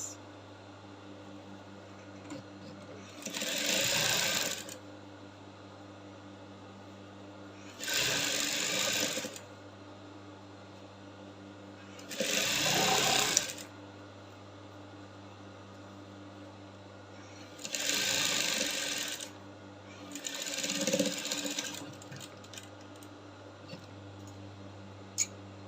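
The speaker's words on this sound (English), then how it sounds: "So I'm done sewing now, and I'll take off my starting threads." A sewing machine sews bias binding around a garment neckline in five short bursts of whirring stitching, with pauses between them over a low steady background hum.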